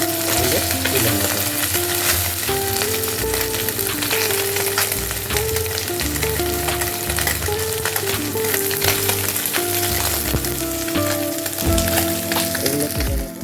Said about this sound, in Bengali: একে সমস্ত মাছগুলো ভেজে নিলাম।